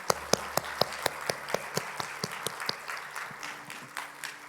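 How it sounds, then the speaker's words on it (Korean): A church congregation in Korea claps together after a prayer at a combined intergenerational service, giving a steady run of rhythmic, fairly faint claps that blur into a softer patter toward the end. "우리 미리 감사하며 하나님께 박수 드릴까요?"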